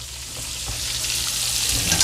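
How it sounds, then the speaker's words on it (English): Onions caramelizing in a pan over medium-low heat give a steady, close sizzle and crackle throughout, without pause. "So my onions are caramelizing pretty good."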